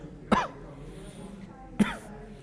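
Two separate coughs from a person who is unwell, close and fairly loud, spaced about one and a half seconds apart against a quiet room background.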